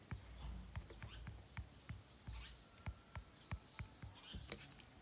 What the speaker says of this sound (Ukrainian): Боже, чуєте, як пташки співають?